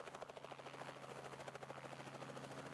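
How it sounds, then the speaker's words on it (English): A blue helicopter flying over a beach, its rotor producing a steady, fast thudding chop above a constant engine whine, faint and even throughout without voices. "Look at the helicopter fly through the air."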